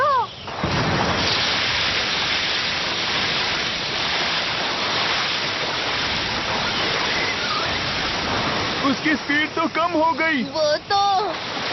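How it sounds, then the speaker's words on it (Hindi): Cartoon river water gushing in with a broad, steady rushing roar that swells in and keeps pouring for several seconds, with excited animated voices talking over the torrent near the end. "अब क्लीनिंग बैग की मदद से मेरे पास नदी का पानी आ गया"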